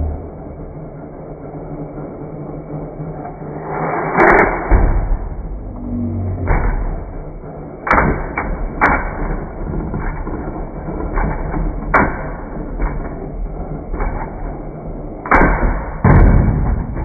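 Plastic Beyblade spinning tops clash and bounce in a battle stadium, giving repeated sharp knocks and thuds at irregular intervals over a steady whirring rattle, close and fairly loud with no talking.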